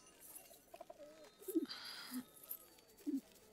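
Caged pigeons or doves give a few soft, low coos at close range, spaced irregularly over a few seconds amid faint background rustle.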